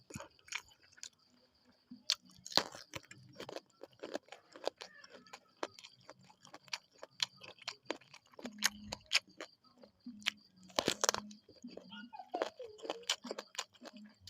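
Close-up crunchy chewing of fried crisp eggplant with spicy squid salad and sticky rice, a steady stream of crisp bites and mouth clicks, fairly quiet and intimate.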